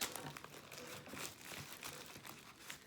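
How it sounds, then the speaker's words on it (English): Plastic packaging around decorative blue eggs being cut open, close crinkling and crackling with small tearing bursts, quiet and continuous, no voices. "And so I'm going to cut out of these packages"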